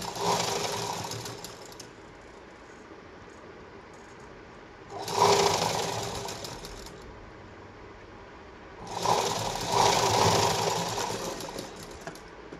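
Sewing machine stitching the hem of a blouse in three separate bursts, each a loud, steady mechanical whir lasting one to two seconds, with quieter room tone between runs.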